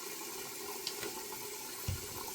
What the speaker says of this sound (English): I'm gonna turn the water off so you can see